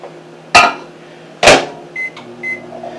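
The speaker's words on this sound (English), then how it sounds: "You're going to put it in the microwave for a minute." A microwave oven hums steadily, punctuated by two sharp door thumps and a couple of short electronic beeps.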